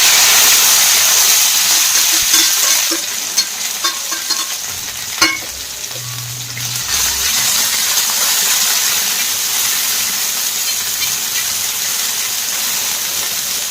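Okra roasting on a hot tawa sizzles and hisses continuously up close, with a few clinks of stirring and scraping mid-way before the frying settles back into an even crackle.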